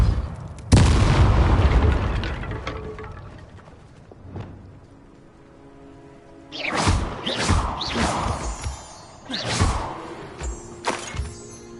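Depulso spell cast in the video game Hogwarts Legacy: a sharp, loud boom-like burst followed by a decaying rumble, then a run of crashing, shattering impacts in quick succession.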